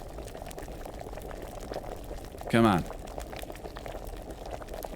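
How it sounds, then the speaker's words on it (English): A cauldron bubbling over a fire while a potion brews in Kingdom Come: Deliverance, a low steady simmer running under a brief spoken line, with a short louder burst partway through. "It's too hot. It's boiling too much."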